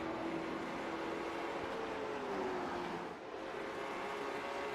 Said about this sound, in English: we also might be hearing the difference there because Brett might be pushing his car a little bit harder than Frank.